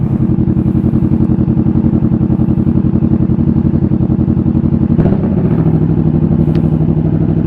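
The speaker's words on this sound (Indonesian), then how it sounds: "Kita panasin dulu motornya. 2 silinder 649 cc." A 2016 Kawasaki Vulcan S ABS, 649 cc two-cylinder, fitted with a Two Brothers full-system exhaust, warming up at a steady idle: loud, close, evenly pulsing rumble with a brief blip around the fifth second.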